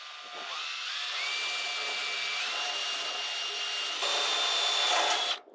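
A power drill whines steadily as it bores into wood inside a shipping container workshop, its pitch rising partway through, then cutting off at the end.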